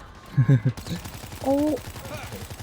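Gunshots fired at zombies in the video game World War Z, a few quick punchy shots under game noise and a steady mechanical hum, with a brief tonal effect midway.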